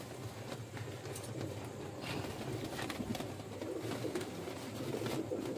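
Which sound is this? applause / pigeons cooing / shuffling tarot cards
pigeons cooing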